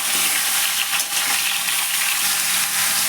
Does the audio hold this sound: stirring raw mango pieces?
yes